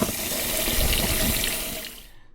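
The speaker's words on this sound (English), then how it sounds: "just pour the water out" Rinse water pours out of a pot of soaked rice being washed for goat biryani, a loud continuous splashing gush of water that tapers off and stops near the end, with no talking.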